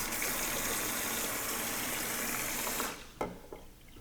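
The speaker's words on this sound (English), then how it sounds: "we're going to take our wet brush and we're going to rinse it well" Water gushes steadily from a tap over a wet wig brush while it is rinsed, a loud continuous splashing rush that cuts off near the end, leaving a few faint drips and clinks.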